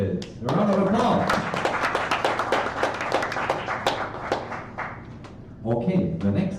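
Audience clapping in a talk setting at a pub science event, several seconds of dense applause from a modest crowd, with a voice speaking before and a short burst again near the end.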